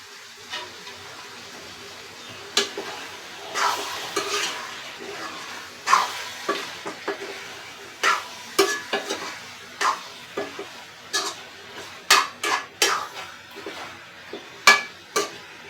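Meat being stirred and sautéed in a pan: a soft steady sizzle with a series of distinct spoon scrapes and clinks against the pan at irregular intervals, close by.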